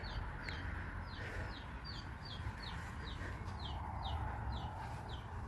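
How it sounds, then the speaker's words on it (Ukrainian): Birds singing in a quiet Dutch village in summer: a short, bright call repeats steadily over and over against a soft steady background hum. "Тиша, пташки співають."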